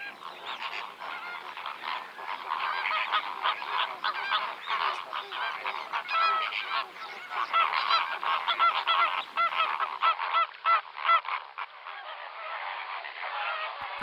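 A flock of courting flamingos calls continuously, a dense, nasal, goose-like honking chorus that stays loud and steady throughout.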